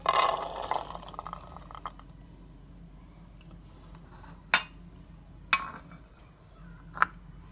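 Red lobia beans tipped into a bowl, a soft rattling spill at the start, followed by faint quiet handling and three isolated sharp clinks spaced a few seconds apart.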